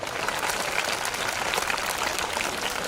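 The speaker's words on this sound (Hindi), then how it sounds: "मेरे जो चतुर्थ श्रेणी के कर्मचारी हैं उनके लिए भी मैं तालियां चाहूँगा।" Dense, steady applause from a school event audience fills the space for about three seconds, a loud continuous wash of many hands with no pauses.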